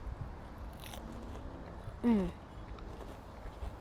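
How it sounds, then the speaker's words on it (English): Crispy fried fish dipped in tartar sauce gets a single sharp, close crunch of a bite in a quiet room, with soft murmurs and small handling noises around it. "Let's taste. Oh, it's nice and crispy."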